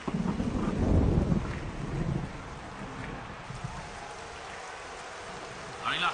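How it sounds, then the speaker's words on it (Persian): Rain and rolling thunder in a robot football cartoon, a loud low rumble at the start easing into steady rainfall, with a faint brighter burst near the end. "در این لحظه بارش باران رو شاهد هستیم."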